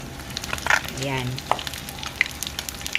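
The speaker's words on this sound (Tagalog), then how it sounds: "ang dinner for tonight is pritong tilapia" Tilapia fries in a pan with a steady soft sizzle, broken by a few sharp clinks of cookware, while a person talks over it.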